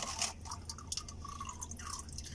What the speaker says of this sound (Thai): นี่นะครับน้ำมันจะไหลลงมา